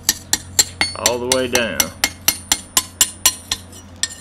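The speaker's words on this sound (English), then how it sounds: "I hold my blade at an angle and come in here with the hammer at an angle and I tap out that edge" A hammer taps out the edge of a hand-forged knife blade, a steady series of about sixteen sharp metallic strikes at a regular pace. A short spoken phrase comes partway through.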